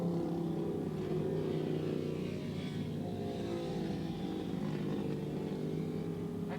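Twin-cylinder and 600 single racing motorcycles (Yamaha, Honda, Ducati) at Willow Springs International Raceway in 1986, a continuous loud engine drone with a shifting pitch as bikes run past on track, no voices.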